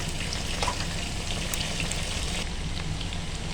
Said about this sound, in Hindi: ये देखिए हमारा चिकन माशाल्लाह इसी तरह फ्राई होना शुरू हो गया